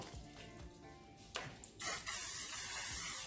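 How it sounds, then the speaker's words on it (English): A short hiss of an aerosol cooking spray inside an air fryer basket, bursting on loud and steady after a few faint clicks, close by. "Give it a quick spray inside."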